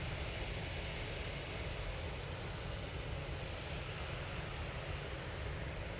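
Orange EasyJet-style airliner departing Manchester Airport, a steady broad jet-engine roar at a distance, even and unbroken, with no voices.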